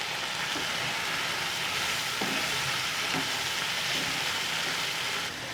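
Chicken and chicken liver frying with powdered masala in a pan, a loud continuous sizzle with occasional stirring scrapes, close up and alone.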